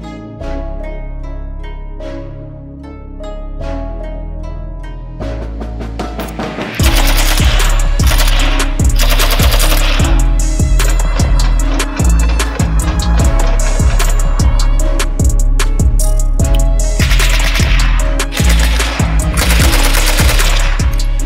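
Loud, rapid bursts of PPS-43 submachine gun fire ring out close by, the shots running in fast rhythmic volleys after a brief tonal lead-in.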